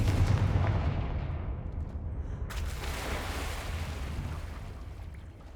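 A Confringo fire spell from the game Hogwarts Legacy lands as a deep, booming blast. A rushing, surf-like roar follows and fades slowly over several seconds, with no voices.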